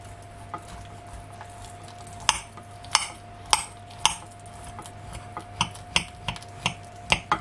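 A plain knife cuts through a baked butternut squash stuffed with red lentils, making a series of crisp clicks and taps against a plate, sparse at first then quicker and more regular, close and clear.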